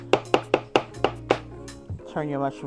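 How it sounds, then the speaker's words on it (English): Knife cutting mushroom slices on a cutting board, six sharp evenly spaced chops close up, followed by a brief voice. "you just cut your mushroom down in slices"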